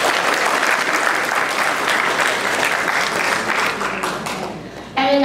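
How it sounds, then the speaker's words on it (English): Sustained audience applause for panelists at a Champa youth congress, loud and dense throughout, thinning near the end before a voice briefly cuts in. "let's give them a round of applause"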